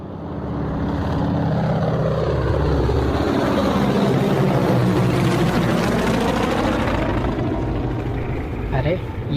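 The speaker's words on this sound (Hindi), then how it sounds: "ये तो हेलीकॉप्टर की आवाज़ है।" A helicopter's heavy engine and rotor drone swells and holds loud and steady, then fades slightly toward the end.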